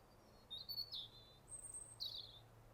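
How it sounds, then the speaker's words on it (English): A European robin sings a few thin, high, warbling phrases against quiet outdoor background on a cliff on the Isle of Wight, with short pauses between the notes. "Nice loud robin up there."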